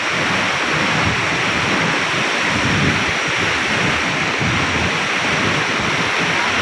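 Waterfall at Arale village set among coconut palms: a loud, steady broadband roar of falling water, continuous and close throughout with no voices.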